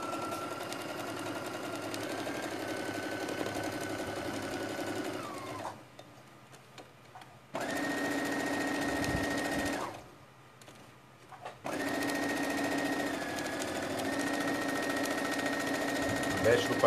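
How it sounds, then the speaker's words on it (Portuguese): A sewing machine topstitches a seam around the wing of a rag angel doll, running in three long steady bursts separated by short pauses, close and fairly loud, with a faint voice in the background. "eu vou rebater uma costura aqui em volta pra deixar a asinha já pronta"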